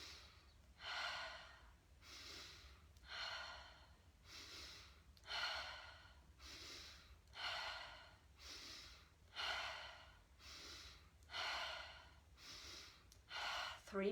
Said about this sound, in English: And we repeat for 1 more round with this breath.